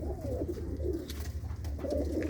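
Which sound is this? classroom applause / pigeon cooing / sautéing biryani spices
pigeon cooing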